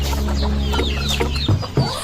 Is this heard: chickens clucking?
yes